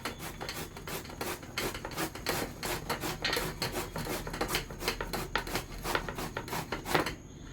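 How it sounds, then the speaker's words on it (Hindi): Bottle gourd (lauki) for halwa is grated by hand, making a rapid rhythmic rasping of steady back-and-forth strokes, close and continuous with no talking. "साइड साइड से हम इसको घिसते जाएंगे।"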